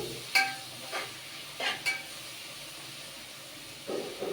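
Tomatoes going into a pan of onions and oil give a few short bursts of hiss and sizzle, with scrapes of a spoon stirring, over a faint steady frying background.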